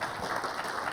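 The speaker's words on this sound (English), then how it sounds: "Everybody, if you could give a big round of applause to our panel here" An audience at a digital industry conference livestream applauds a panel, a brief, dense wash of many clapping hands at an even level.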